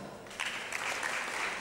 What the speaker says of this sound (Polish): Dziękuję bardzo za brawa.